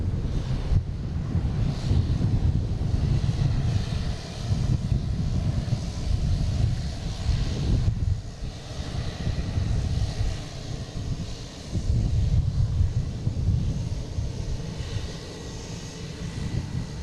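An Airbus A330-300 jet at Boston Logan airport gives a continuous low engine roar heard from a distance, heavily mixed with gusting wind buffeting the microphone, rising and falling over time.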